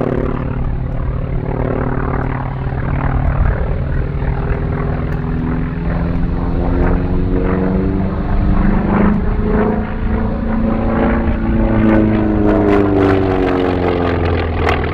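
Loud, continuous drone of a North American T-28B Trojan's 1,400-horsepower Curtiss-Wright 1820 nine-cylinder radial engine, throbbing and shifting in pitch as it passes overhead at an air show.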